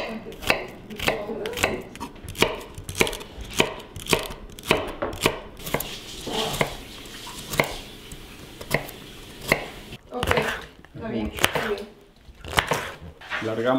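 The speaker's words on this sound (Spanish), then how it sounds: "vamos a picar un poco de apio, cebolla, morrones verdes, ¿qué más? Zanahoria." Knife chopping celery, onion, green peppers and carrot on a board for a beef empanada filling, a steady run of sharp, close, evenly spaced chops that turn quicker and more irregular near the end.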